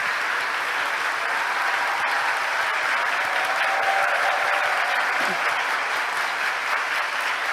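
Church congregation applauding to welcome visiting guests at a service, a steady, dense wash of clapping that holds evenly for the whole stretch.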